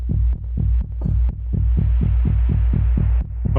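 A soloed techno synth patch with overdrive and solid state distortion throbs in a steady rhythmic pulse, loud deep thumps with a gritty buzzing tail, alone without voices.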